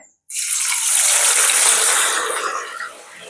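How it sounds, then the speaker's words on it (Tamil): A sudden loud sizzle bursts out as potatoes drop into hot oil, a steady bright hiss that eases slightly toward the end. "எண்ணெய் கொதிச்சுட்டு நான் இப்போ உருளைக்கிழங்க போட்டுக்கொள்கிறேன்"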